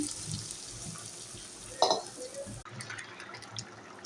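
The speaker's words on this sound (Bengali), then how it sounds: "পরিমাণ মতো জল দিয়ে দিচ্ছি" Water is poured into a pan of prawn and green jackfruit curry with fried potatoes, a soft steady splashing over background hiss with one brief louder gush midway.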